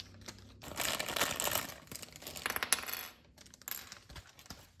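Toy packaging is torn open along a tear strip: a few seconds of close, crinkly ripping and rustling plastic, broken by a brief pause, then more crackling.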